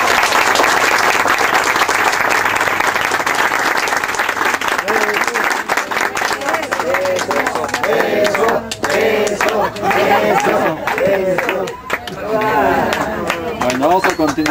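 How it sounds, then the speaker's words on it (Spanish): Audience applause for two people at a celebration, loud dense clapping that thins into mixed clapping with cheers and voices talking over it. "vamos a darles un aplauso aquí a los dos"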